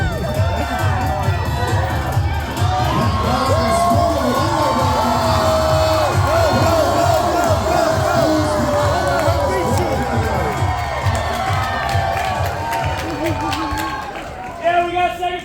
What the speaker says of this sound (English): Why would you cheer for that?